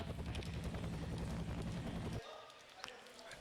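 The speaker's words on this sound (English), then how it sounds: "this helicopter which we're trying to reach" A helicopter in the video game F.E.A.R. makes a dense, steady rotor rumble that cuts out abruptly partway through, leaving a quieter ambient bed with a few faint clicks.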